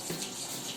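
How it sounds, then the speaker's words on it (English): Hot tap water running steadily over ice lolly molds in a kitchen, a soft continuous broadband rush at low-to-moderate level with no voices. "now run the molds under hot water"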